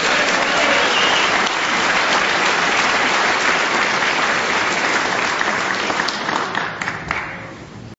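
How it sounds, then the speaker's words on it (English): A snooker crowd at the 2007 UK Championship quarter final applauds loudly and continuously as the players are introduced, the dense clapping fading slightly toward the end. "you can tell from the crowd's reaction when the players are introduced"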